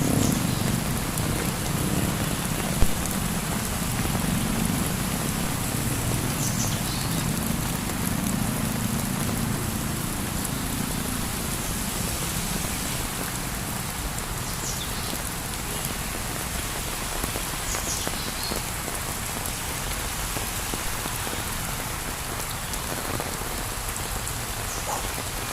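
Heavy rain pours steadily for a long stretch, a dense continuous hiss of drops drumming on surfaces, with a gusty low rumble and a few faint distant knocks underneath.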